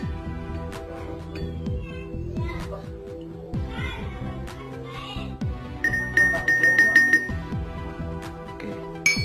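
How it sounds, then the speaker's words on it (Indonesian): A glass container of water holding fish is stirred after ten drops of a treatment liquid are added, giving light repeated clinks of a stirrer against glass over a steady low hum, with brighter tinkling toward the end. "Kita aduk dulu."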